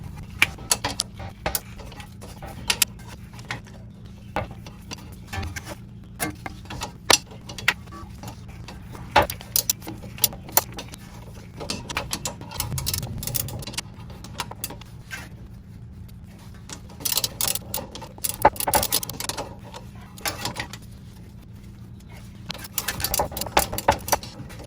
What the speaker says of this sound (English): Now we can take our bolt out